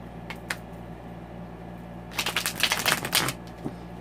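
Santa Muerte tarot cards are handled close up: a couple of soft flicks, then a quick burst of riffle shuffling and card snaps, followed by a lone tap, with no voices.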